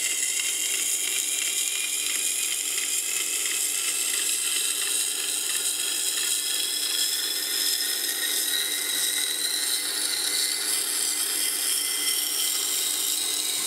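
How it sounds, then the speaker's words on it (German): Tool sharpening on a 1200-grit CBN wheel with no pressure applied, a steady high-pitched grinding hiss running continuously at even loudness with no talk. "Diese CBN-Räder werden völlig ohne Druck geschliffen."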